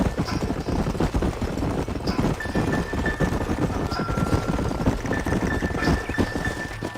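Horses' hooves clip-clop steadily in Red Dead Redemption, a dense, continuous trot of several riders close by, with a faint tonal hum running underneath and no talk.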